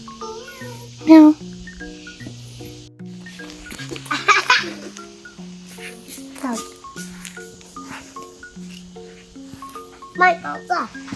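A cat meows several times at a forest trig point on a low-altitude hiking trail in Tainan, under frequent talk from adults and a child, and one voice imitates the meowing.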